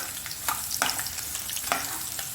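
Peanuts and cashews fry in hot oil in a pan for upma premix, a soft continuous sizzle broken by a few sharp scraping stirs.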